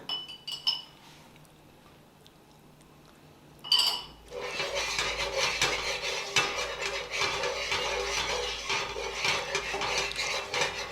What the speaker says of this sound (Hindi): ऑयल को बस थोड़ा सा फैलाना है और अपना 300 ग्राम गुड़ हमने डाल देना है इसके अंदर।